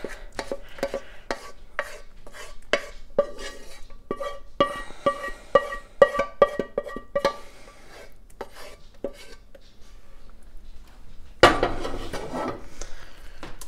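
Cooked risotto being scraped out of a pan onto a sheet tray: a run of sharp, close metallic scrapes and clinks, irregular and dense, ending in a louder rough scraping burst.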